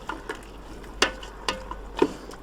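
A quick stir of chicken stock and rice in a Ninja Foodi pot: a few short, separate scraping knocks of a utensil against the pot, spaced about half a second apart and heard close with nothing else over them.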